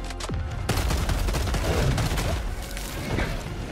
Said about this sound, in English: A little grenade pistol.